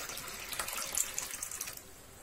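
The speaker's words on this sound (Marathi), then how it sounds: "ही डाळ बुडून वरती देखील पाणी राहील इतके याच्यामध्ये पाणी घालायचे आहे" Water runs steadily over lentils in a container for about two seconds, a close, hissy pour that tapers off near the end.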